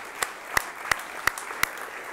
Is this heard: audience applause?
yes